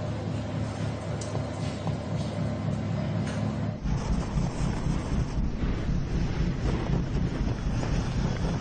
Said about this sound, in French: le vent souffle à plein poumon sur la zone de pêche située au large de l'Écosse.